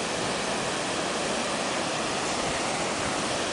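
A waterfall at Sulimenai, a steady, loud broadband roar of falling water with no pauses or voices.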